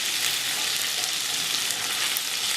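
Chicken pieces with almonds and spice frying in a pan give a steady, dense sizzle, close and even with no talk over it.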